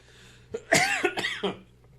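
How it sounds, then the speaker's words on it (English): A short run of harsh coughs, three or four in quick succession, close up over a quiet background. "you can tell me how to get rid of this cough"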